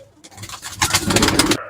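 Madrasi pigeon offered for sale cooing close by, a short rising throaty coo that swells and holds for about a second.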